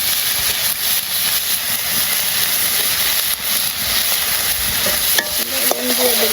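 Onion sizzles steadily in a hot pan with turmeric and chili, a continuous close frying hiss with occasional stirring scrapes and a few clinks near the end.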